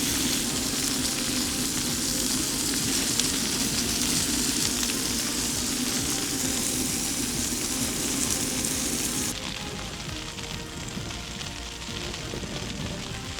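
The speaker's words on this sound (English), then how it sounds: "Got the MSR wind burner going, pan on, cooking" Food sizzles steadily in a pan on an MSR WindBurner stove at a wild camp, a dense close hiss that drops noticeably quieter about two-thirds of the way through.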